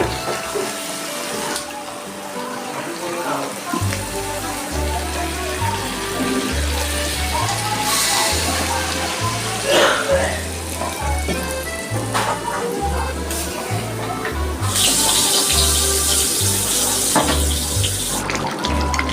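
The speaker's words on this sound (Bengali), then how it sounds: "আমি এবার জল দিয়ে দেবো" Water is poured into a chicken curry cooked with little oil and hand-mixed spices once the masala has been fried down, a steady rushing pour heard alongside rhythmic background music.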